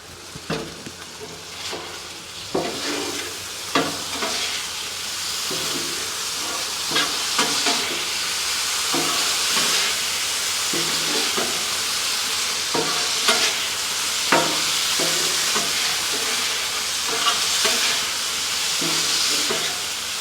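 Small sausages sizzling on a Blackstone griddle: a steady close frying hiss broken by repeated sharp scraping and clacking as they are turned and stirred.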